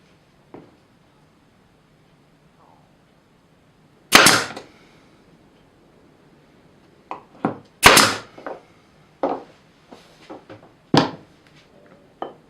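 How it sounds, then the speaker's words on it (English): A pin nailer fires pins into a cherry wood mallet, giving several sharp, loud pneumatic snaps separated by quiet gaps, some followed by light handling clicks. "fire in a few pins to hold it until the glue dries"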